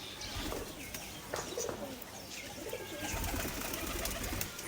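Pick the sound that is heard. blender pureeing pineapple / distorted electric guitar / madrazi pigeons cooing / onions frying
madrazi pigeons cooing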